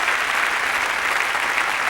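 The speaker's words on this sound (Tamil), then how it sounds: "இதுக்கு ஒரு கைத்தட்டு கொடுக்கணும்." A large crowd claps in sustained, dense applause at a festive Pongal debate stage event, loud and even throughout without a break.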